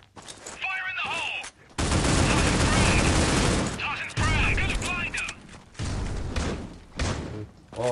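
A frag grenade in the Critical Ops shooter game goes off, followed by heavy bursts of gunfire and loud blasts that come in several long, roaring stretches with brief gaps, while voices call out during the match.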